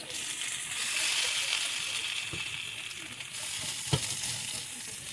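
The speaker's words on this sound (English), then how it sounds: "The hard thing about frying taters." Continuous hiss and crackle of potatoes sizzling in a hot frying pan, with a couple of scraping stirs.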